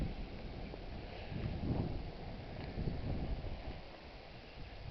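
Gusty wind buffets the microphone in a steady low rumble that swells and eases, with no one speaking.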